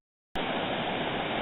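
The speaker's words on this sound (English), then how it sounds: "Here you see a beautiful waterfall." Waterfall on the Split Rock River, a dense, steady roar of rushing water that cuts in suddenly after a moment of silence and holds at an even level.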